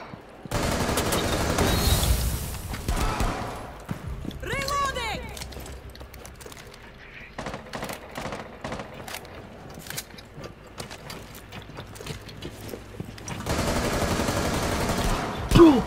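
Gunfire from a first-person shooter video game, including a wall bang kill, with loud bursts and rapid shots clustered at the start and end and scattered sharp cracks between, heard over game noise and voices talking.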